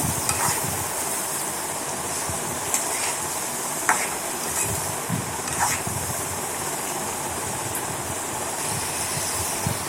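Carrot fry being stirred in a pan after salt and turmeric go in, a steady sizzle with scraping and stirring scrapes running throughout, fairly loud and close with no talking.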